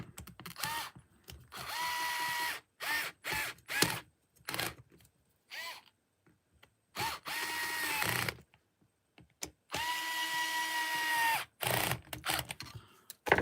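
Power driver bolting a transfer case into a GS02 RC crawler chassis, heard as repeated short whirring bursts of varying length with pauses between, close and fairly loud, no talking.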